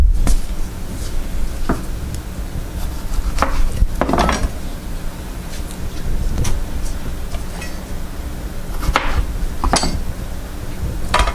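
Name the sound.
knife chopping tomatillos, onion and jalapeno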